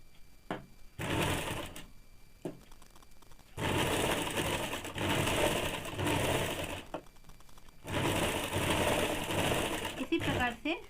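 Bursts of sewing machine stitching on a woolen baby frock, several loud runs of a few seconds each separated by quiet pauses and short clicks, close to the listener.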